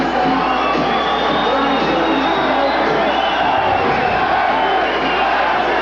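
Boxing arena crowd at a Larry Holmes fight, a loud continuous roar of cheering and chanting voices filling the whole clip without a break.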